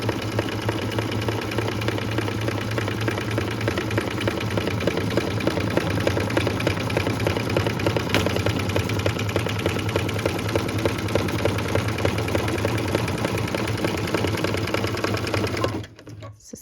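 A sewing machine stitches a beaded Christmas ornament in one continuous loud run, its motor humming and needle chattering steadily and close, stopping abruptly just before the end.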